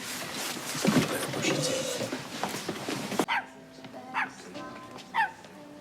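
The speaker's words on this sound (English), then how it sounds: "Any way you can shut that dog up, Roy?" A dog barks indoors in a drama scene, first behind busy talk and clatter, then three distinct, evenly spaced barks ring out alone after the scene cuts, fairly close and loud.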